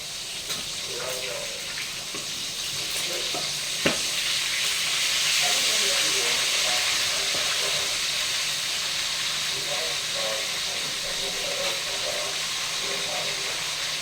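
Continuous loud hissing sizzle, like water hitting a hot pan, with faint clinks and soft background voices.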